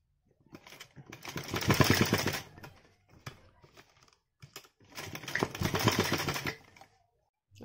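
Sewing machine stitching fabric for a cross hair band, two whirring runs of a couple of seconds each with quiet gaps and small clicks between, fairly close.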